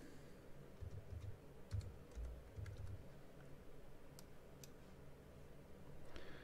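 Light typing on a computer keyboard while setting up a building energy model in OpenStudio, soft irregular key clicks over a low background hum, fairly quiet and close.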